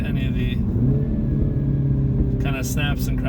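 A Mini Cooper S 2-door in sport mode, its engine droning loudly throughout with sharp exhaust pops and crackles bursting out near the end, while people talk over it.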